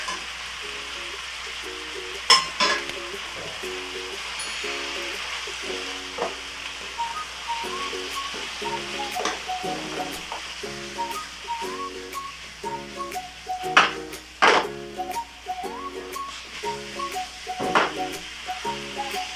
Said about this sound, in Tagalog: after natin ma-sautay yung ating meat na palos